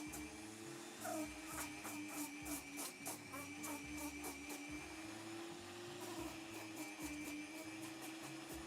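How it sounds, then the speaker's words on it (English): A Dremel rotary tool grinding resin gives a steady, high motor whine with rapid rhythmic scraping pulses, running continuously and close at fairly low volume. "This is mostly kind of Dremel work."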